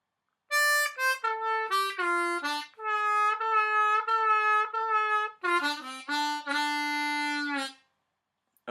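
A tune is played solo on a harmonica, a phrase of sliding, staccato and held reedy notes, close and clear, ending on a long sustained tone.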